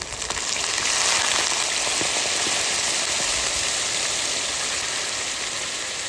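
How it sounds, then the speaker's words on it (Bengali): Water poured into a pan of jackfruit curry cooking in rendered goat fat, a steady broadband hiss and sizzle that swells after the first second and holds evenly to the end, close and fairly loud with no talk. "আমি এটা জল দিয়ে দিচ্ছি"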